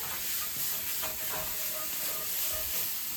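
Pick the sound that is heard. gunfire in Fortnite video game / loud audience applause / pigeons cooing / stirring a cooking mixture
stirring a cooking mixture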